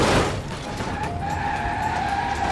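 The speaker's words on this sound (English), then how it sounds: "It did detect the impact and is stopping the car." A car in a video game hits a wall and brakes hard, a short burst of skidding tire noise and engine drone that fades into a steady whine.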